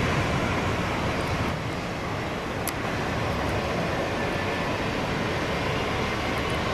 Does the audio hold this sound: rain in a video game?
no